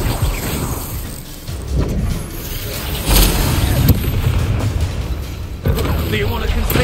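Confringo fire spell in the Hogwarts Legacy video game during a duel, with loud booming blasts and crashes over continuous game noise while a voice speaks.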